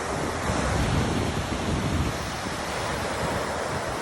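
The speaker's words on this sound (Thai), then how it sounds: "คลื่นกระทบทรายโอ้ เยเสียงคลื่นนะฮะมาแล้ว" Ocean waves break and wash up onto the sand at a busy beach in Rayong, a loud, continuous roaring surf with some wind buffeting the microphone and no talking.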